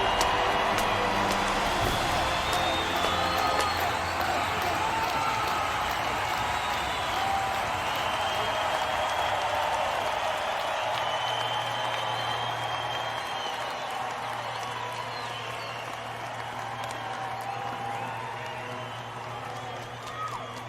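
A crowd in a Minecraft battle series cheers and claps after a rousing speech, a dense, loud wash of voices and applause that slowly fades, with a low hum running underneath.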